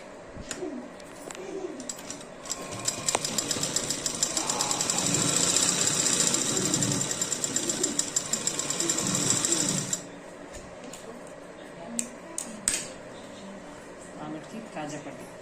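A sewing machine runs in a steady whirring burst while stitching a child's silk pattu langa, then stops around the ten-second mark. Pigeons coo faintly in the background and a voice talks briefly.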